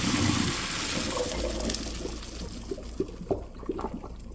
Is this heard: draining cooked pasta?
yes